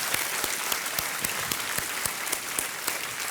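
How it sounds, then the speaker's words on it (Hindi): Studio audience on the KBC (Kaun Banega Crorepati) game show breaks into sustained applause, a dense, even wash of many hands clapping for the whole stretch, with no voices over it. "तालियों के साथ इनका अभिनंदन किया जाए।"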